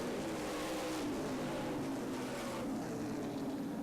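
Race cars roaring around an oval speedway at Angola Motorsport Speedway during a 50-lap feature, a dense, sustained engine drone with a pack swelling and fading as cars pass, steady and fairly loud throughout.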